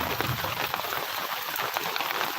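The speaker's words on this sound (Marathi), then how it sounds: "पाऊस काय करतोय थोडक्यासाठी भिजवणार आहे आपल्याला" Steady rain patters densely on a surface, a constant close hiss of drops with no voices.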